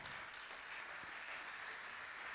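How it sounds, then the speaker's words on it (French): Steady applause from a crowd, a continuous wash of clapping with no voices standing out. "Avec nos applaudissements."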